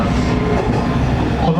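Kumagawa Railway train running between Yunomae and Asagiri: a steady, loud rumble of wheels and motor heard from inside the carriage, with an announcement voice over the noise.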